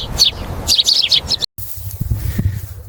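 Sparrows chirp in an animated farm story, with bright, rapid tweets repeating close and clear over a low background hum, then quieter softer sounds after a brief gap.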